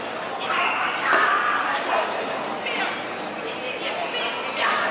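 Dogs barking and yipping at the Westminster dog show agility day in 2020, scattered barks over a busy arena crowd with people talking nearby.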